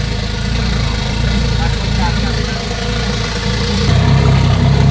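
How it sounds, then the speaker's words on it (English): A swapped Toyota 1JZ engine in a JZX100 idles loud and close with a steady low rumble that lifts to a higher, firmer idle near the end, while people talk over it. "I want to hear it idle better though."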